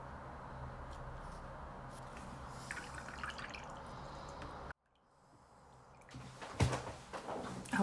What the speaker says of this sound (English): I'll change the water for the second row.